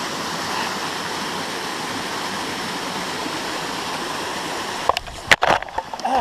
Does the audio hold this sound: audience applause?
no